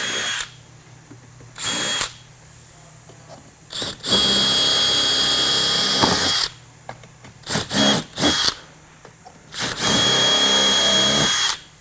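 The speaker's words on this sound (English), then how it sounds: "now we'll go back and put AVEX rivets in these holes here." A power tool sets Avex rivets into the handle holes of a Wilson suitcase, with several loud, close bursts of whirring of varying length separated by quiet gaps.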